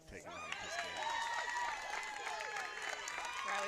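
Crowd cheering and clapping in the grandstand at a men's and women's pickleball match at the PPA Tour Finals, a loud, steady roar of many voices and applause throughout, with whistles and shouts rising over it.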